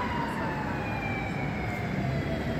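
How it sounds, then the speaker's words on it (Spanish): An emergency siren from a fire engine or ambulance wails on a Brooklyn street near Grand Army Plaza, a steady rising-and-falling tone over dense city traffic rumble. "como siempre se oyen bomberos o ambulancias, esta ciudad es muy ruidosa"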